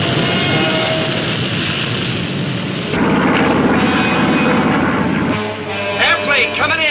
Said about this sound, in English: Airplane coming in.